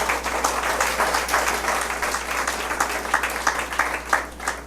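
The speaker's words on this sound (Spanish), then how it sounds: "Denle un aplauso al Señor Jesús." A church congregation applauds during a sermon, a continuous wash of many hands clapping in a reverberant room, steady and moderately loud with a low hum beneath.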